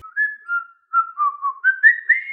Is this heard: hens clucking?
no